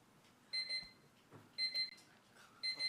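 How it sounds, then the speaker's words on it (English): A timer at a city council meeting beeps in three short bursts of rapid, high electronic tones, evenly spaced and moderately loud in a quiet hall with no talking. "I don't control the buzzer."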